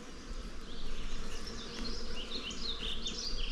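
Honeybees at an opened backyard hive produce a steady, dense buzzing drone with individual bees whining past close by, continuous and fairly loud throughout.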